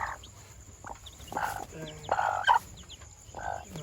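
Hens on a duck-breeding farm cluck in short, scattered bursts, fairly close, with soft voices faintly audible in the background.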